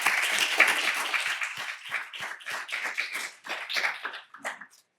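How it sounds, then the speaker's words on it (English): An audience gives a round of applause at an academic talk on cancer disparities, steady clapping from many hands that thins out and fades toward the end. "So can we give them all a round of applause,"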